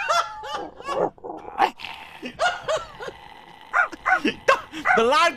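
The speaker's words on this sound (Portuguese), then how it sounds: "Deixa aquele cachorro em paz." A dog barks and yips repeatedly in quick, uneven bursts, loud and close, mixed with excited voices of people talking and calling out over it.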